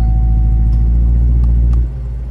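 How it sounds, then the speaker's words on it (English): A C7 Corvette with NPP exhaust valves idles close by in a deep, steady rumble that drops slightly in level near the end, with no talking. "So let's give it a try. Okay, so start the car up."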